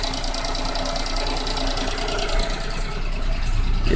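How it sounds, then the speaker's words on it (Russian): A three-cylinder car engine idles smoothly in a workshop, giving a steady, close, continuous rumble with a light rhythmic ticking and no change in speed. "Двигатель работает ровненько на холостых."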